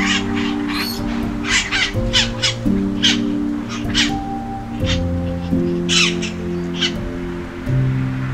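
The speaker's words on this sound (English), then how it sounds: "they got a bunch of little parrots, little green parrots," Harsh, repeated squawks from several small green parrots nearby, coming in quick irregular bursts over a steady musical tone.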